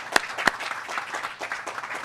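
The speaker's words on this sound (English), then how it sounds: "Give them a round of applause one more time." Audience applause at the Pennsylvania Farm Show theme announcement: a burst of clapping with a couple of sharp loud claps near the start, then steady, moderately dense applause that fades slightly over two seconds.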